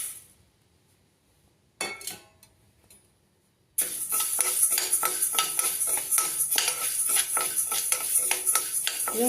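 Horse gram dry-roasting in a pan while being stirred for idli podi: a short rattle of seeds, a pause, then steady close-up scraping and crackling rattle of grains against the pan, with no talk.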